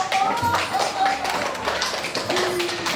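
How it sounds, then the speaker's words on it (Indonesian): Classroom applause in a Year 4 lesson, a brief burst of light, quick clapping with soft voices mixed in, fairly close and fading after a couple of seconds. "Tepuk tangan"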